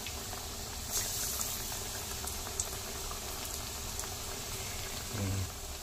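Mangalore-style masala vada, or chattambade, frying in hot oil on a medium gas flame, a steady dense bubbling sizzle with no pauses, fairly soft and close.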